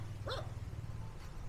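A guard dog in Dumaguete, Philippines, barks once sharply at moderate distance, followed by a fainter second bark, over a low steady background hum.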